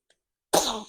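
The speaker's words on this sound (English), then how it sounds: "Oh, there he is sneezing." A man sneezes once, close and loud, in an abrupt burst after a moment of near silence, then the sound trails off briefly.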